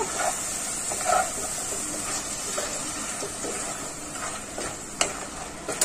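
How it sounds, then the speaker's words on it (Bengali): Crab masala sizzles and hisses in a pan while being stirred, with quiet scraping strokes and soft bubbling at a close, moderate level throughout. "আমি আবারও একবার নাড়াচাড়া করবো।"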